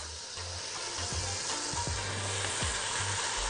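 Chicken pieces sauté in a hot pan for a fajita pasta dish, a strong, steady sizzle with occasional stirring scrapes, close and continuous without talk.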